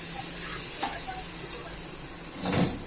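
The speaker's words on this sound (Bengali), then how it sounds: "আস্তে আস্তে গরম জল দিচ্ছি, দিয়ে ভালো করে নেড়ে নিচ্ছি।" Food stirred in a pot after hot water is poured in, a soft steady hiss and bubbling with a couple of brief scraping stirs, the stronger one near the end, and no talking.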